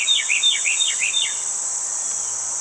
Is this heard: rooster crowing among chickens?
no